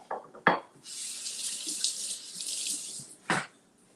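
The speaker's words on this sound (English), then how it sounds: "let me wash my hands" A kitchen tap runs steadily for about two seconds as hands are washed, a close, even hiss framed by a couple of clunks from the tap or sink, with no talking.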